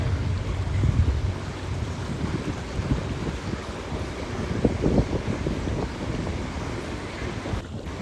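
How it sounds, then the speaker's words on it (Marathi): Water washes and laps gently against the shore of a creek where a river meets the sea, a soft, continuous wash, with wind rumbling faintly in the background. "फक्त लाटांचा जो आवाज आहे तेवढंच ऐकतो आहे आपण"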